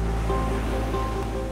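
Ocean waves break on the coast, a continuous loud, rushing surf wash with a deep rumble underneath, steady throughout and heard alone.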